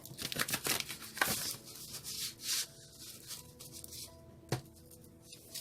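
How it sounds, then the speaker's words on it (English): A deck of tarot cards is shuffled by hand, soft rubbing and riffling swishes in quick clusters followed by a lone slap, close and fairly quiet with no talk. "One more shuffle they requested."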